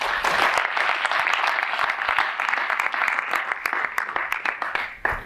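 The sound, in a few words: audience applause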